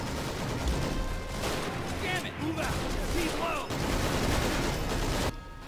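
Dense, continuous battlefield gunfire from the Men of War Assault Squad 2 war game, with rapid overlapping bursts filling nearly the whole stretch before cutting off sharply near the end.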